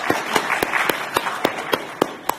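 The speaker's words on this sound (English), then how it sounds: "round of applause." Scattered hand claps from a small group at a professional networking conference for international graduates; sharp, evenly spaced claps ring out over a faint room murmur for a couple of seconds.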